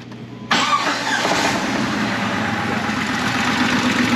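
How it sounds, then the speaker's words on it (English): A used fixer-upper Jeep engine cranks briefly, then catches and runs at a loud, close, steady idle. "I decided I got another Jeep. It's a fixer upper. And see if it crank."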